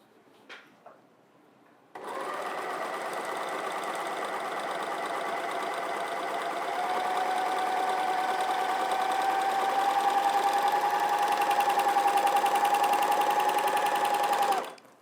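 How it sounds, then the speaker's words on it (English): A Janome MyLock 454D overlocker stitches a 4-thread overlock, starting abruptly after a couple of faint clicks and running as a steady, fast mechanical whir that rises slightly in pace partway through and holds close and loud until it stops. "So I have this set for a 4-thread overlock"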